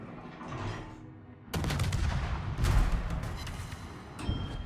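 Naval gunfire from the French tier 9 destroyer Mogador in a warship video game, firing past an island corner: a sudden loud broadband blast opens a dense, rumbling stretch of repeated shots, with another sharp report near the end.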